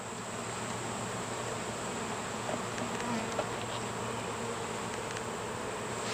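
Honeybees swarm around an open hive with a hive super during late-summer hive work, producing a dense, continuous buzzing drone, steady and close with a few brief louder passes, no talk.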